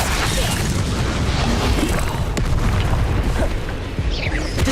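Bombarda spell explosions in Hogwarts Legacy make a dense, loud, continuous booming roar with scattered crunches and debris crackle, heard close and unbroken throughout.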